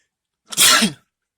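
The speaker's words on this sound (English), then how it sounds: "I feel a sneeze coming on." A single loud, close sneeze bursts out sharply and ends quickly, with silence before and after.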